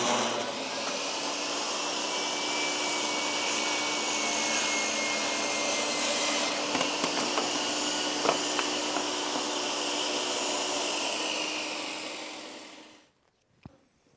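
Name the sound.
table saw cross cutting red oak veneered plywood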